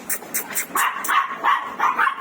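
A dog barks in a quick series of about eight sharp, loud barks close by, in an even rhythm with no talking.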